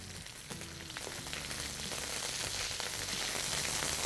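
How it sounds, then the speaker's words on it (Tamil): Crushed unpeeled garlic, curry leaves, mustard seeds, dried chillies and slit green chillies fry in sesame oil for drumstick-leaf rasam, making a faint, even crackling sizzle that builds slightly and continues alone. "பூண்டு, 4 பச்சை மிளகா கீர்னது எல்லாத்தையும் போட்டு அந்த நல்லெண்ணெய் நல்லா வாட்டுங்க."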